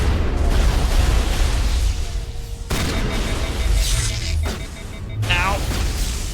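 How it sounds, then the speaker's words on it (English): Grenade blasts and weapon fire boom and crackle in Mass Effect combat, a dense, loud wash of rumbling explosions with abrupt cuts and sharp bursts. A voice shouts partway through. "Grenade!"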